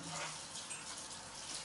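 Warm water running from a tap into a sink while cleaning a hookah, a faint, steady hiss and splash without talk.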